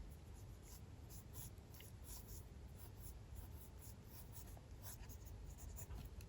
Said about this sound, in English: So I'm just gonna sketch some faces and see if anything calls to me.